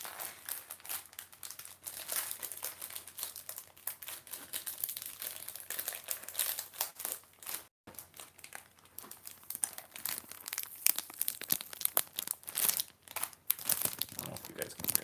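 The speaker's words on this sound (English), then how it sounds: "Nice crinkly bag." An Insta Skincare plastic bag is crinkled close up, giving a steady, busy crackle that runs continuously for the whole stretch with one brief pause near the middle.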